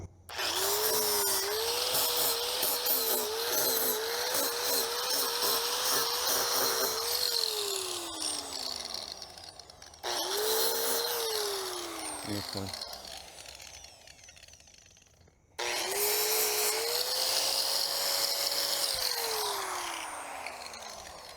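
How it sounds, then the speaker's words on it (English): An angle grinder fitted with a flap disc smooths protruding metal on a roof-mounted Ground Breaker skeleton prop, loud and close. It runs in three long bursts, each whining up to speed and winding down between passes. "I got flap discs and I'm just going to hit them a little bit and just take off a little bit that they're protruding from the surface"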